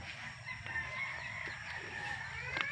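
Faint chickens clucking and calling at a distance, with a rooster-like call rising near the end over quiet outdoor background.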